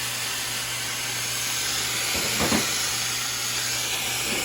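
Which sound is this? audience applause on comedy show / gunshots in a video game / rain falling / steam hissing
steam hissing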